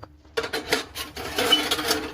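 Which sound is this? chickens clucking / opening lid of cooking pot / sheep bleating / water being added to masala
opening lid of cooking pot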